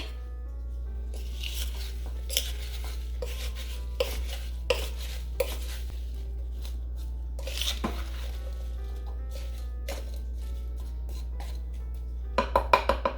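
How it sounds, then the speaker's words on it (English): Sausage and apples with brown sugar and water mixed in a slow cooker, with soft scraping, clinks and squishy stirring strokes at an irregular pace over a steady low hum, close and fairly quiet. "I'm going to pour over the sugar, and I'm going to attempt to mix this up the best I can."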